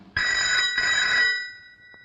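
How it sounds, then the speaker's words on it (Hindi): A telephone rings twice in quick electronic trills, loud and close, then falls silent. "देखो किसका फोन है।"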